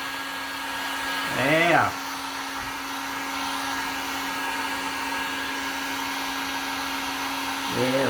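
A hair dryer blows steadily to dry paint on a pumpkin, a constant whirring airflow with a brief louder surge near the start and again at the end, and someone briefly speaks over it.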